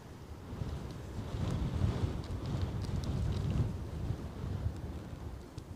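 Strong gusting wind buffets the microphone at Newcastle Airport on a snowy, crosswind day, a rough low rumble that swells and eases continuously, close and loud, with no speech.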